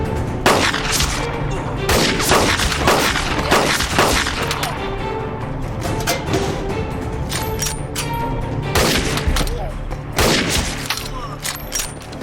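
Sustained gunfire crackles through a camp attack, with repeated sharp shots and bursts, some in quick clusters, loud and close amid general commotion.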